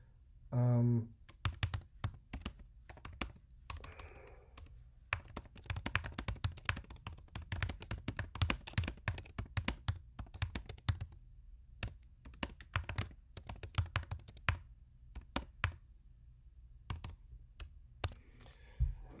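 Feedback is typed on a computer keyboard in a quiet room: dense runs of close, light key taps with short pauses between words and phrases, plus a few firmer key presses and clicks.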